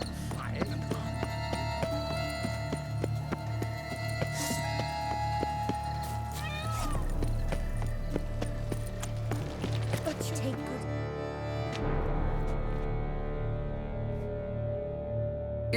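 Horse hooves sound in The Witcher 3, with soft clopping and a faint whinny buried under steady game music and ambient tones, mid-distance.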